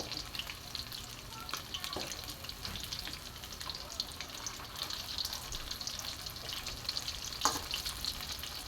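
French fries and chicken deep-frying in hot oil give a steady, dense crackling sizzle throughout, with a few brief clinks and scrapes standing out near the end.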